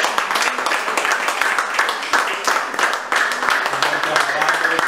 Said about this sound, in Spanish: Den un aplauso allá al Señor fuerte